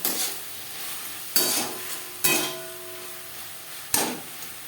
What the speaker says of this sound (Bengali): দু তিন মিনিট পেঁয়াজ টমেটো নাড়াচাড়া করে নেওয়ার পর দিয়ে দেবো আদা বাটা কাঁচা লঙ্কা বাটা